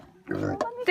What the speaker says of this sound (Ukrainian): Свинки Пепи! Свинки Пепи!